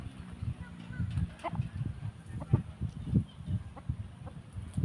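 Burmese fighting chickens, free-ranging at a rural village home, cluck in low, scattered bursts close by, with soft background noise throughout.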